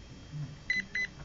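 Two short electronic beeps from a 1/18 scale Iron Track EZ-Run RC car speed controller during programming sound in quick succession, clear and close, over a low background hum.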